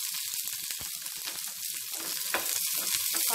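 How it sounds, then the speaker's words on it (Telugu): Green chili pieces crackle and sizzle steadily in a small amount of hot oil in a pan, a dense continuous hiss with scattered pops, fairly loud and close with no voices. "ఇప్పుడు పచ్చిమిరపకాయని కూడా మనము ఫ్రై చేసేసుకుందాము."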